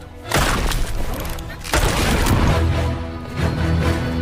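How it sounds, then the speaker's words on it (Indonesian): A tank fires at an armored suit in a film, giving heavy booming blasts and crashing impacts that rise sharply twice, loud and close, with a narrator's voice partly over them. "Tiba-tiba dia ditembak oleh tank"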